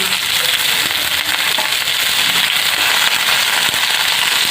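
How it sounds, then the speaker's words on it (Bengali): Flat beans fry in a pan alongside cauliflower for a mixed vegetable dish, giving a loud, continuous sizzle and crackle with occasional scraping as they are stirred. "শিমগুলো দিয়ে কিছুক্ষণ নাড়াচাড়া করে ভেজে নেব"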